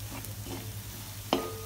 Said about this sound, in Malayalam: അങ്ങനെ നമ്മുടെ മസാലയൊക്കെ മൂത്ത് വന്നിട്ടുണ്ട്, കളറ് മാറി നല്ല മണവും വരുന്നുണ്ട്.